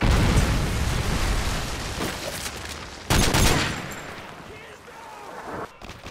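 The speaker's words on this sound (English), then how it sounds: "Predator missile inbound." A Predator missile strike detonating in Call of Duty on the Village map: a loud, sudden explosive boom around the middle, followed by a rumbling decay amid ongoing gunfire and battle noise, with voices calling out.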